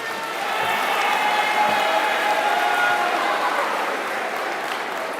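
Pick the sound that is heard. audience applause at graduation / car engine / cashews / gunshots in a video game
audience applause at graduation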